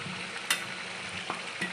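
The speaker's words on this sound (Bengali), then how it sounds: "মাংসটা আমার অনেকক্ষণ ভাজা হয়ে গেছে।" Chicken sizzles steadily as it fries in a pan after a garlic and dried red chilli paste is added, a soft continuous crackle broken by a few sharper spits and stirring clinks.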